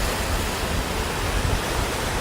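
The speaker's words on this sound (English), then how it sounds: "you guys can hear the waves of the ocean in the background" Ocean waves near a beach produce a steady, broad rushing wash with no distinct breaks, a continuous roar of surf that fills the background without any talk.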